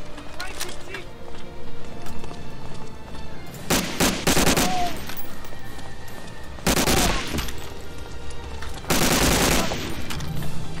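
Gunfire in Medal of Honor: Allied Assault, with bursts of loud rifle and automatic shots spaced between calmer stretches of battle ambience, some shots close and sharp.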